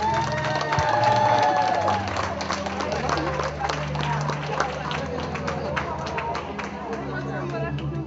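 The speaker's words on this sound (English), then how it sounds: "Let's give a round of applause to all our HIPPY graduates." Graduation crowd claps and cheers for the graduates, a broad wash of applause and excited voices that swells early and then settles into steady clapping and chatter.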